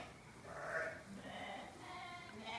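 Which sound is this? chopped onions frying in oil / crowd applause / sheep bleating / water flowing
sheep bleating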